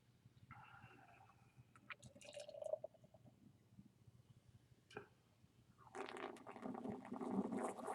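Sour beer pours into a glass and then fizzes hard, with aggressive carbonation and a quickly rising head. The first gurgles are quiet and close, and a louder hissing crackle builds toward the end.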